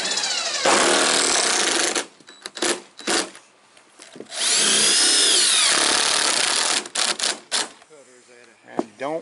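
A power drill drives screws into the termination bar on a single wide mobile home roof, with two long loud whirring runs and sharp bursts between them, and a voice talks in the gaps.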